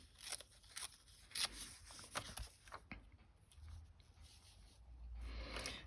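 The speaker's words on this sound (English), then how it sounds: "And I'm going to tear across there." A paper receipt stub torn slowly by hand, close and quiet: soft crackling rips and small rustles in short bursts, then a steadier fibrous tear toward the end.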